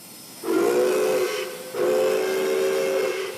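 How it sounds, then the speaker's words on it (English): Two long, loud blasts from the whistle of the Pere Marquette steam locomotive, a rare steam engine still in operation, the first blast sounding about a second and the second held longer, with steam hiss around them. "The Pere Marquette is one of only a handful of steam-powered locomotives that are still in operation"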